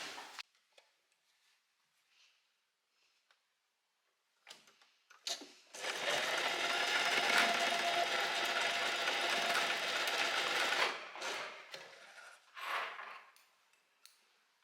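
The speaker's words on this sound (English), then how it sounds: "So I'm just gonna overlap them like this and sew over it a few times" A sewing machine runs in one loud, steady burst of about five seconds, stitching over overlapped elastic ends for pyjamas, then follows with a few shorter bursts and quiet pauses.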